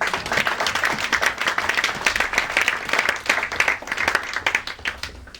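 A church congregation claps steadily and energetically in praise throughout, a dense, continuous wash of many hands with no pauses.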